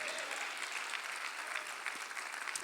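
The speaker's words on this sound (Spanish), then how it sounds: "Dele el aplauso al Señor." Faint, steady applause from a church congregation, heard from a distance as a continuous wash of clapping for a few seconds.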